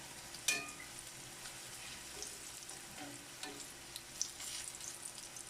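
Ripe plantain slices fry in a pan of oil, a soft steady sizzle close by with an initial sharp clatter and occasional stirring scrapes and light knocks, no voices.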